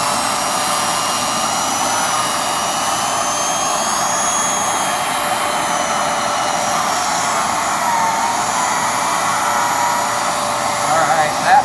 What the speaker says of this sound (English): It's scrubbing it deep in that carpet pile, getting out all that Dr. Pepper.